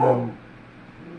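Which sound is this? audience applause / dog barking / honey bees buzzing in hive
dog barking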